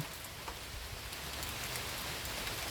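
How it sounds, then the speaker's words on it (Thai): Light rain beginning to fall outdoors as the wind picks up, a soft, faint, even patter of drops spread across the whole stretch with no voices. "ลงเม็ดแล้วได้ยินเสียงไหมคะทุกคน"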